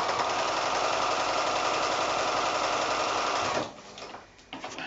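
A sewing machine stitches 5-inch quilt squares together with a 1/4 inch seam allowance, humming loud and steady nearby before stopping, followed by a few faint handling sounds.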